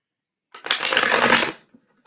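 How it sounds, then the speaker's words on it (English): A deck of trading cards is riffle-shuffled once, a crisp, close burst of flapping card edges lasting about a second, heard alone with silence before and after. "Oh, I shuffled the extras in here."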